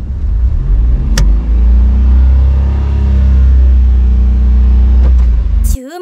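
A used four-wheel-drive kei truck with a manual transmission revs steadily during a hill start, a loud close engine drone held at rising revs for most of the stretch, with a couple of sharp knocks, before cutting off abruptly at the end.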